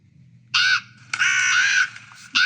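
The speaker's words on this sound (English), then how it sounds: "And there's our crow sound playing." A PicoBoo MP3 Halloween prop controller plays a recorded crow ambient sound: three loud, close, harsh caws, a short one, a long drawn one, then the start of another.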